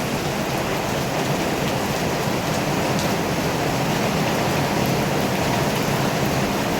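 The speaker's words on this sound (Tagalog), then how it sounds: "Ibubuhos niya pa yung ulan na malakas." Heavy typhoon rain from Typhoon Kristine in the Philippines pours down as a dense, steady roar that stays loud and unbroken throughout, with no voices.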